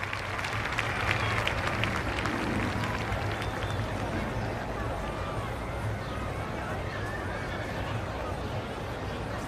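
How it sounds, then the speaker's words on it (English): A stadium crowd at a Test match between India and Australia in the cricket video game Don Bradman Cricket 14 applauds steadily, a dense wash of clapping and cheering that holds at an even level throughout. "The crowd applaud."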